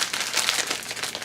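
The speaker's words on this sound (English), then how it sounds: "Now, I have this special plastic bag here" Heat-proof plastic oven bag, used for cooking chicken breasts in a solar oven, crinkling and rustling continuously as it is handled close by, with no talk.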